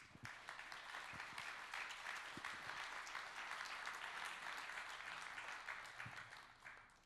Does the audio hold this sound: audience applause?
yes